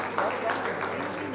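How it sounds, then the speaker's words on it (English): An evening audience applauds Major Sagar, second in command, at a special army screening of the film Uunchai. Dense crowd clapping carries steadily through the moment under a faint hum of the room. "Let's give a huge round of applause to him"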